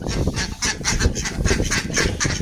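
Pet ducks honk and quack repeatedly in a rapid, overlapping chorus while being fed grain, close and loud, with no talking over them.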